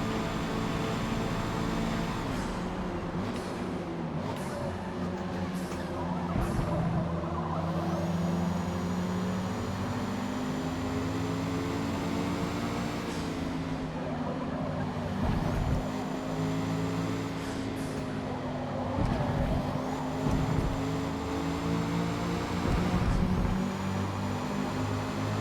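A Mazda 323 race car roars around the Mugello circuit in Forza Motorsport, its engine a steady, buzzing drone that rises and dips in pitch with throttle and gear changes, heard alone without talk.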